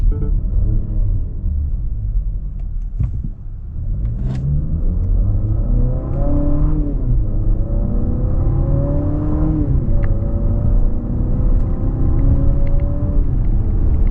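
A 2026 Infiniti QX60 Sport AWD in sport mode gives a steady, loud engine drone that rises in pitch as it accelerates, drops at each gear change and climbs again, with road rumble underneath and no talk.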